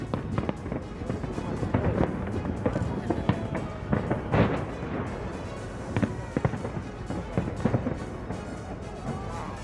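Fireworks over St. Petersburg, Russia for a Fatherland Day celebration: dense crackling bursts and pops spread through the night, with crowd voices murmuring underneath throughout.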